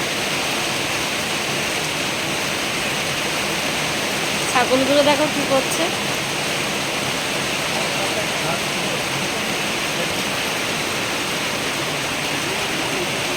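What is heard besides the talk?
heavy rain falling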